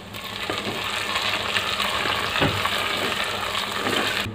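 Tomatoes and ginger-garlic paste frying in a pan for a rustic Indian chicken dish, a steady close sizzle and crackle with faint stirring scrapes throughout and no talk.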